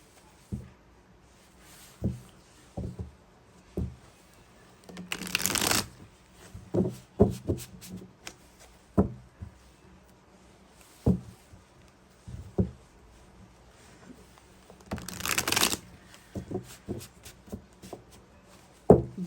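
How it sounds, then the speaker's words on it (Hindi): Tarot cards drawn and shuffled from a second deck in a quiet room: sparse soft taps and slides, with two brief riffling bursts about ten seconds apart. "दूसरे डेक से भी मैं कुछ कार्ड्स ले लेती हूँ"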